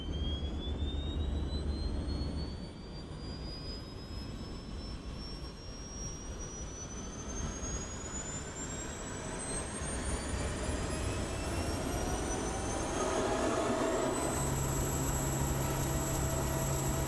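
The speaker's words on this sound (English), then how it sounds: "This beast of a twin-turbine helicopter is a legend when it comes to heavy helicopters." Twin-turbine air crane heavy helicopter in a flight simulator, engines spooling with a steady loud turbine roar and a high whine that climbs steadily, then jumps higher near the end, continuous with no talking.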